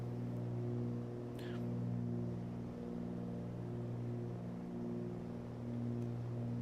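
Twin piston engines of a Cessna 310R heard from the cockpit as the RPMs are brought back, a steady droning hum with strong harmonic tones and a slight easing in level.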